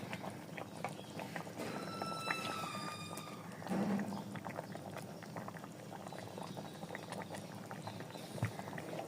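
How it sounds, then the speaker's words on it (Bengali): Chicken curry with tomatoes bubbles steadily in a pot of water at a low, continuous boil, soft bursting and gurgling throughout with a few faint clinks, no talking. "পরিমাণ মতো জল দিয়ে এবার আবার ফুটে আসা পর্যন্ত অপেক্ষা করতে হবে"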